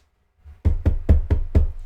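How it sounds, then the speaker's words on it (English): Five firm knocks on a door come in a quick, even series, close and distinct against near silence. "they knock on the door"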